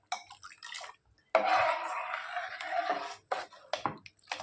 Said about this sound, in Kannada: ಇಷ್ಟು ನೀರು ಹಾಕಬೇಕು.